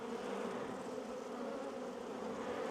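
Bees buzz in a dense, steady drone during a hive inspection in an apiary on a very hot day, the swarm sound continuous and close with no talking.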